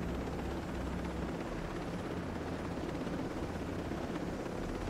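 Helicopter in the military shooter game Ghost Recon Breakpoint: a loud, steady rotor and engine roar that runs unbroken for the whole stretch, with no talking.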